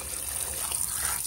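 Water splashes and trickles as fresh river rita fish are washed with salt water, a close, continuous wet swishing with no talking.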